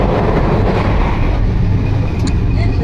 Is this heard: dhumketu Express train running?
yes